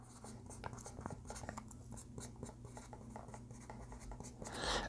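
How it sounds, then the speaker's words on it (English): Pen or pencil writing a note by hand on paper, close scratchy strokes in irregular short bursts, quiet and steady with a rustle of paper near the end and no talking. "I'm going to write it down real quick"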